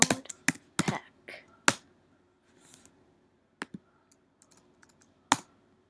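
Keys on a computer keyboard clack in a quick opening flurry, then come as scattered single taps separated by near-silent gaps, close and crisp.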